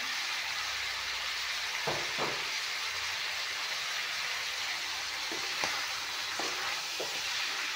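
Chicken pieces fry in a pan with cumin and black pepper powder, giving a steady broadband sizzle throughout with a few soft scraping stirs near and clear, and no voices.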